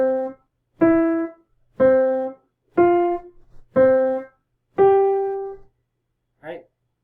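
Six separate piano notes climb in pitch as intervals from middle C, each struck and left to ring briefly before the next, followed by a short quiet sound at the end.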